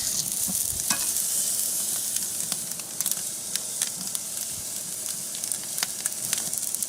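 Steak searing on the hot grate of a Big Green Egg charcoal grill, a steady close crackling sizzle with scattered sharp pops running throughout, no talk.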